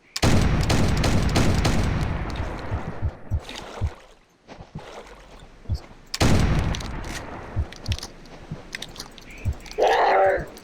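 Shotgun blasts in a Siberian expedition video game, heavy booming shots with long decaying tails, two main bursts a few seconds apart plus scattered smaller hits, loud and close.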